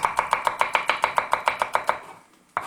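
A knife chopping leeks thinly on a cutting board, a rapid even run of about fourteen crisp close taps, a pause, then one more chop.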